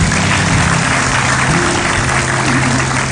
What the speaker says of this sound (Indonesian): tepuk tangan sekali lagi buat Bapak Ridwan Kamil dan Ibu Atalia.